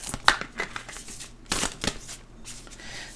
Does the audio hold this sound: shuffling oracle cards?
yes